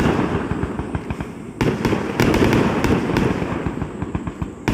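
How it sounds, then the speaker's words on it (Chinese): Fireworks at a lakeside summer fireworks festival on the Nasu highlands in Japan, a continuous barrage of crackling bursts and sharp pops, with several louder booms standing out over a dense, busy crackle. "又可以看烟火"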